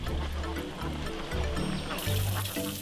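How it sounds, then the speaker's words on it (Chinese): Farm-raised ma ducks on a waterside farm quack repeatedly in short nasal calls, close and fairly loud over a soft background of water and outdoor ambience. "这个鸭子一看应该就是麻鸭"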